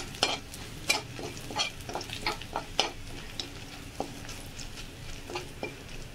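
Two dried chillies fry with garlic in hot oil, a soft steady sizzle broken by repeated scraping stirs of a spatula against the pan, close and fairly quiet.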